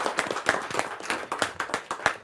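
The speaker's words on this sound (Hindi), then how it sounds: "जोरदार ताली के साथ हम उनका स्वागत करें" Audience at a Hindi poetry gathering claps to welcome a poet, a rhythmic run of fairly close, distinct hand claps in a steady beat with no talking over it.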